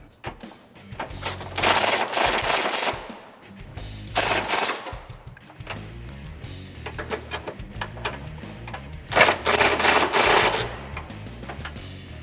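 A power tool tightening coilover bolts on the passenger side of a 2005-2014 Mustang GT, loud ratcheting bursts of a few seconds each, separated by quieter pauses with clanks, close by.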